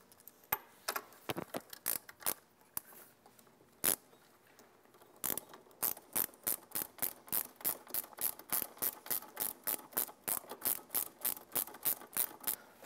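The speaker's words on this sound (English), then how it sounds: "We'll add our last two screws to the back of the plate. And then we'll tighten them down." A ratchet driving the last two screws into a motor controller plate on an E-Z-GO RXV golf cart, scattered clicks at first, then a steady run of rapid ratcheting clicks, close and fairly quiet.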